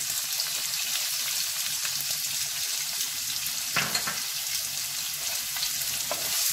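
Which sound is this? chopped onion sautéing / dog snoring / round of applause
chopped onion sautéing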